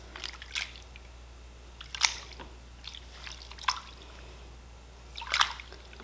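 Wet yarn is lifted and squeezed in a bowl of dish-soap suds, producing a few separate close squelches and drips over a faint steady hum.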